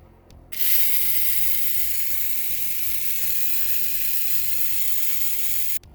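A vintage 1980s Schaper Stomper toy vehicle motor runs at low speed, a rapid mechanical ratcheting whir with steady gear clicks, close and alone, starting and stopping abruptly.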